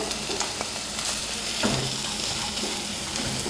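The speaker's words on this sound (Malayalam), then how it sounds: "നന്നായിട്ടൊന്ന് സോട്ട് ചെയ്തെടുക്കാം" Carrots and green beans sautéing in a hot pan for a creamy white sauce pasta, a steady close sizzle with occasional scraping stirs and utensil taps, no voices.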